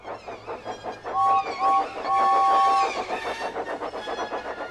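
Train cars roll along rails in a Thomas the Tank Engine story, giving a rhythmic clickety-clack with a loud, steady near-field rumble. Brief whistle-like tones sound partway through.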